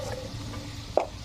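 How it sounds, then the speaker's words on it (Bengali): Potato pieces frying in oil with salt and spices for a cabbage dish, a faint soft sizzle with a light stirring scrape. "লবণ দিয়ে এবার আমি ভালো করে ভেজে নেব।"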